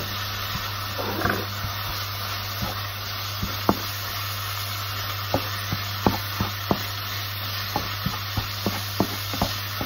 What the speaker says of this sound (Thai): ผัดไปเรื่อยๆให้หมูสุกนะคะ